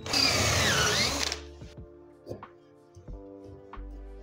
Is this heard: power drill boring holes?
yes